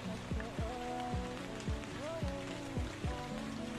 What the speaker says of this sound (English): Trust me, it rains a lot.